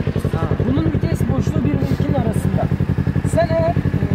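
A motorcycle engine runs in first gear with a steady, rapid thumping pulse close by, while someone talks continuously over it.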